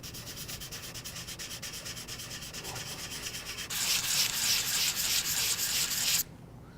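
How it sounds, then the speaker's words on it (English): Hand sanding paint off a gouged Kevlar composite propeller blade with 80 grit sandpaper on a sanding block: steady, close rhythmic scraping strokes that grow louder and harsher partway through, then stop abruptly. "I'm going to use 80 grit sandpaper and a sandpaper block and remove the paint"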